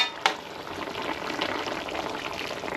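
Hot water bubbling at a steady simmer in a pot for chicken tinola, a continuous soft roiling hiss with one small clink near the start.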